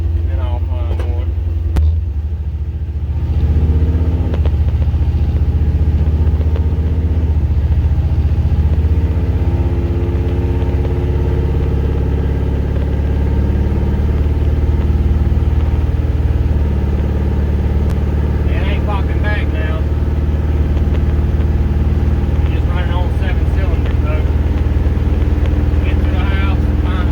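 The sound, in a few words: car engine driving home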